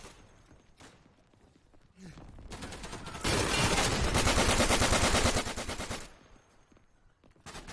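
Bren or Lewis light machine gun firing in the World War II shooter Day of Infamy, with rapid sustained bursts that start slowly, build to a loud continuous rattle for several seconds and then taper off.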